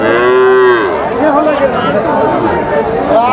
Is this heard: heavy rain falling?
no